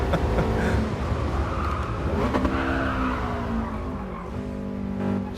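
All-wheel-drive turbo car with a stick shift in GT Sport VR, its engine revving and rising in pitch while tires squeal briefly, loud and close with a sustained roaring drone throughout.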